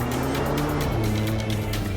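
A car drifting and sliding on a dirt surface, its engine droning steadily close up with broadband gravelly tire noise throughout, no voices.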